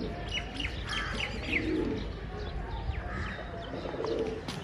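Pigeons cooing and chirping, probably domestic flock birds readied for a pigeon-flying tournament; soft, overlapping coos and tweets continue throughout at moderate level with no voices.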